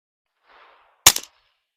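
A single sharp, loud crack from a suppressed Ruger Mark IV .22 pistol is heard close by. It has a short tail, follows a brief faint rustle and stands alone in otherwise near silence.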